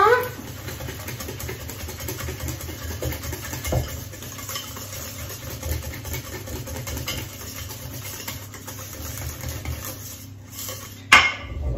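A whisk stirs spiced gingerbread batter in a bowl, making a continuous soft scraping and clinking against the sides with a low steady hum behind it, then a louder clatter near the end.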